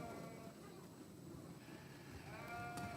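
Blackface commercial yearling ewes bleat in a 4-H sheep show ring, with a couple of brief bleats over a murmuring crowd and faint background chatter.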